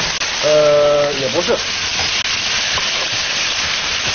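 Vegetables frying in hot, lightly smoking oil, a loud continuous sizzle and hiss close up, with a brief tonal voice passage early on and short speech.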